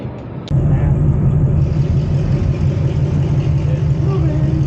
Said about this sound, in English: all together, driving under its own power, and the rear end is locked now